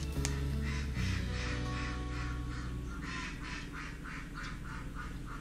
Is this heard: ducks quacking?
yes